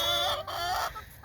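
Chickens cluck in a netted backyard pen, a close, busy run of short calls and chatter that fills the clip and eases off near the end.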